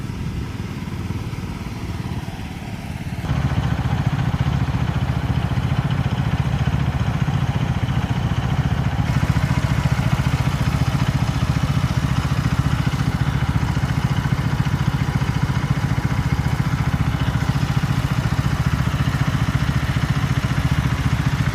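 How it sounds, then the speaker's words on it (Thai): Small 15-horsepower petrol engine of a rice transplanter running, a steady mid-pitched motor clatter that steps up louder after a few seconds and holds constant, close by with no talking. "เครื่องยนต์นั้น 15 แรงม้าเท่านั้นเองครับ เ ครื่องมันหมุนมอเตอร์ไซค์ครับ ใช้น้ำมันเบนซิน"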